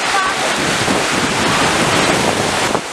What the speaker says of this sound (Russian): там такие волны шлепают и брызги летят